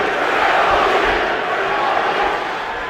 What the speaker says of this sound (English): Gennady, Gennady is the chant of the crowd.